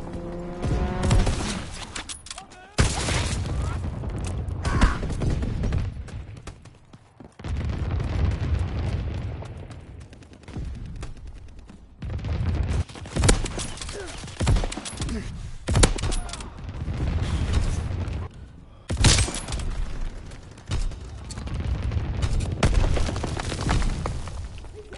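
Anti-aircraft fire and a strafing run in a WW2 video game come as repeated loud bursts and booms over dense rumbling battle noise, with a voice speaking at intervals throughout.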